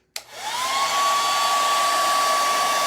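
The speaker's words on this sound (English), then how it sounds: "I'm going to dry this really quickly with my hair dryer." A hair dryer switches on with a click and quickly rises to a steady, loud whirring blow with a constant high hum, running close by.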